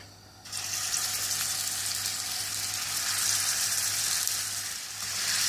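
Gola kebabs go into hot oil in a pan and fry with a sudden, steady hiss that continues evenly and close by, with no talking.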